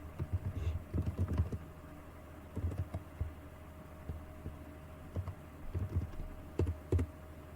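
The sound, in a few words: typing on a computer keyboard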